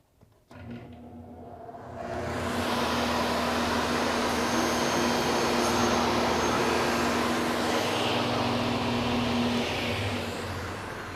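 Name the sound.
MiniMax C26 sliding table saw cutting a board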